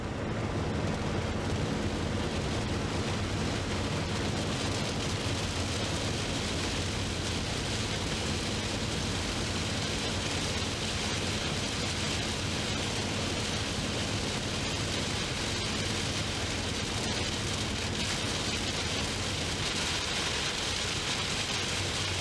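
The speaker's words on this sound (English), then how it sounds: "I haven't been in rain like this since we went that Windora trip that time" Heavy rain pours down steadily in a dense, unbroken roar with a broad hiss, loud and constant throughout, with no voices, somewhere on the road near Bourke.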